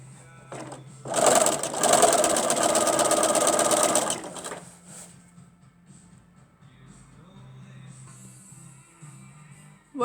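A sewing machine runs in one steady three-second burst, stitching a seam on a fabric face mask without a backstitch. It sounds close and loud, then gives way to quieter handling noises.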